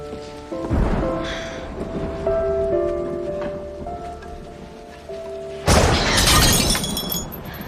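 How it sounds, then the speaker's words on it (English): A dish shatters indoors with a bright, crashing burst of breaking pieces near the end, after rolling thunder and steady rain from a storm outside, with a faint musical tone underneath. "The thunder startled me."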